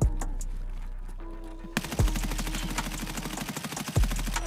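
Rapid bursts of automatic gunfire in the video game Escape from Tarkov, sharp repeated shots ringing out loudly with a few heavier reports standing apart, no talking.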